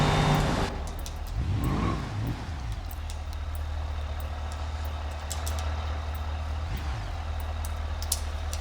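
A car in the BeamNG.drive driving game reverses toward the start of a crash-test hall, its engine a steady, close, low drone after a brief louder swell at the start.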